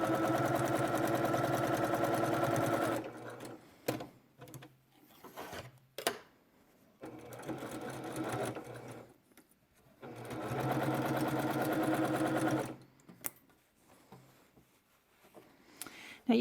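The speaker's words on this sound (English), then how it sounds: "And then finish off our top stitching." A sewing machine top stitches a fabric mask, running in several steady bursts of rapid mechanical chatter, close by, with quiet pauses and handling noises between runs.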